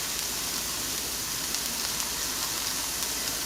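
Meat sizzles steadily in a pan while cooking for chiles en nogada, a continuous, soft, even hiss of frying with no talking.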